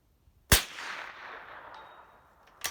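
Two sharp cracks from a Springfield M1922M2 .22 caliber bolt-action training rifle fired at a 200-yard range: a loud shot with a long ringing decay, then a second report near the end.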